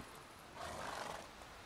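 A horse neighs in the video game The Witcher 3, a loud, breathy whinny rising over a dense, noisy game soundscape.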